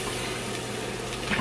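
Cabbage sizzles in a hot pan in a steady, close frying hiss that lasts the whole brief moment.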